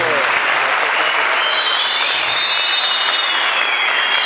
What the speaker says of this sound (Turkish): Alkışlarımız onlar için gelsin.